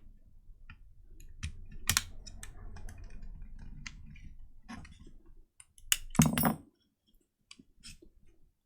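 Plastic clips on a computer mouse shell pop apart as it is pried open with a tool, a few sharp, close clicks and snaps scattered among quiet fiddling handling noises, with a louder crackle near the end.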